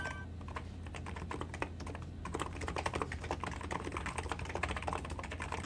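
Rapid, steady typing on a Hansung capacitive Topre-style keyboard with 50g switches, each keystroke a soft, muted thock close to the mic, continuous with no speech.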